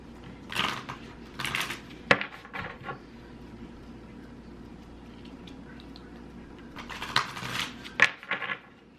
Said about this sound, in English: Then you have to shuffle them, right?